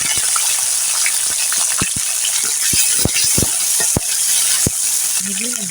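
Cumin, onion and chili fry in hot oil for a tangy green mango dish, a steady close sizzle broken by sharp clicks and scrapes of a stirring spoon against the pan.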